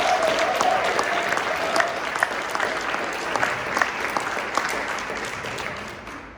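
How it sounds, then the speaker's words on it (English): An audience at a neighborhood community meeting claps at full strength for about six seconds. The applause is dense and close, with sharper individual claps on top, fading slightly at the end, and there is no talk. "Let's get a clap to that."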